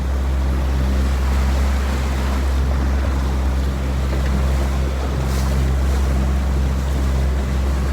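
A boat cruising on open water at sunset gives a steady, close, low engine drone that runs unbroken throughout, with wind and water wash layered on top.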